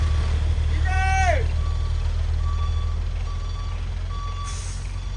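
A trailer truck reverses with rhythmic backup beeps, a steady evenly spaced series over a heavy low engine rumble, with a short rising tone early on.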